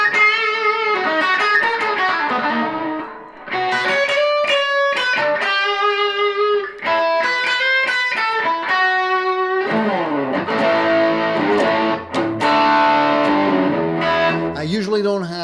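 A Tokai electric guitar played through a Fender Princeton Reverb amplifier, with short melodic phrases and chords picked in bursts and brief pauses between them, loud and close, with no talk.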